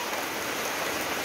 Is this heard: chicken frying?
no